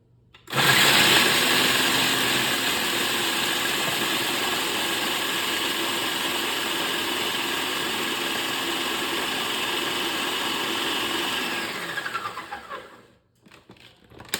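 A food processor purees strawberries in one long, steady motor whir lasting about twelve seconds, loud and close, then spins down and stops.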